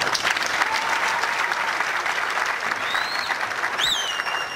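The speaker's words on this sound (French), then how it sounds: "Je vous prie de les acclamer." Audience applause at a Congolese political party event, sustained dense clapping from a crowd throughout, steady and loud with no pauses, a brief whistle rising near the end.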